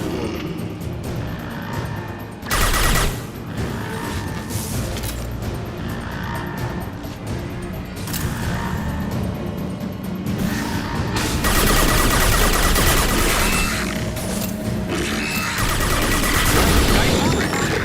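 Sci-fi video-game combat with loud gunfire and heavy high-impact shots, bursts and blasts layered over a constant roaring mechanical din that swells in the second half; a game voice speaks briefly.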